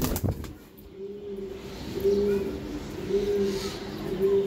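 Giribaz high-flying racing pigeons coo in low, repeated throaty calls close by, with a brief flutter of wings at the start and soft background noise throughout.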